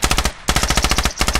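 Rapid automatic gunfire in a close-quarters battle video game, loud and close, two sustained bursts of evenly spaced shots separated by a brief pause.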